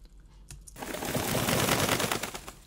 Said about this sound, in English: And then I have 3 times the same sound of a bird flapping